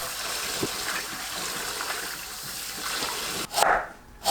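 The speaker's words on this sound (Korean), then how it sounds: "손질한 도라지는 흐르는 물로 헹궈주세요." Bellflower root is rinsed under a running tap, a steady soft stream of water that gives way to louder splashing gushes near the end, close by.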